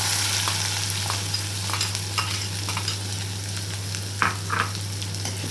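Chopped onions frying in an oil-filled pan with asafoetida and cumin seeds for paneer bhurji, a steady close sizzle with scattered crackles and a couple of louder pops near the end, no voices.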